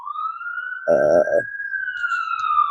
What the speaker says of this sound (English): God damn, that alarm is hella annoying